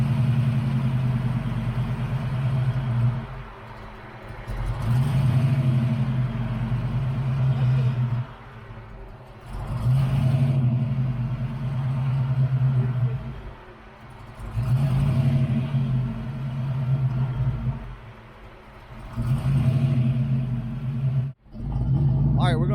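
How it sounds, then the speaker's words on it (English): Stroked Ford Mustang Foxbody V8 idling with a deep, steady rumble that surges and dips in repeated cycles, as if the idle is hunting, close by and loud throughout, with one sharp dropout near the end. "May have to bump that idle up on the throttle body."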